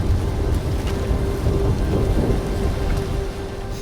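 Thunderstorm with heavy rain falling steadily on surfaces, a low continuous rumble of thunder underneath, loud and close throughout with no voices.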